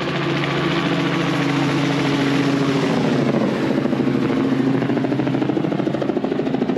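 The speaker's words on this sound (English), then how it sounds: "Helicopter." A helicopter's rotor thumps and engine drone fill the air, loud and steady throughout with a rhythmic chopping pulse, no voices.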